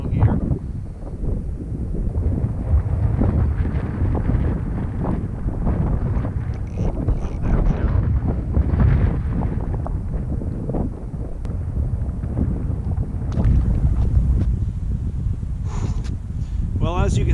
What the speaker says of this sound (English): That wind that just started as just a couple gusts has really become just kind of a constant wind